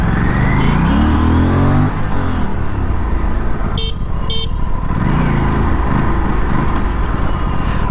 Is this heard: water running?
no